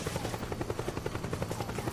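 A helicopter in the video game Metal Gear Solid 4 thuds steadily with rapid, even rotor beats over a dense roaring wash, loud and continuous throughout.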